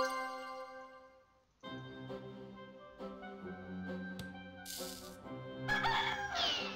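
A rooster crows clearly in the video game Discworld II over a steady backdrop of music and tinkling tones, with a brief hiss midway and a chirpy flourish at the end.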